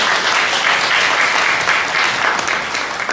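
Wedding guests in a hall in Gwangju clap for the bride and groom, a dense, even burst of applause that stays loud before easing slightly at the end.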